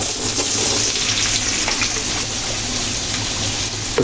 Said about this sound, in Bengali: এরপর ভেজে নেব যে মিষ্টি কুমড়া